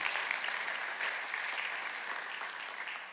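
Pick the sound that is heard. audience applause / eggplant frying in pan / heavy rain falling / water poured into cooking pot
audience applause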